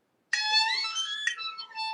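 Bright, high sustained violin harmonics begin after a short silence, one long note sliding into a second, fairly soft and alone.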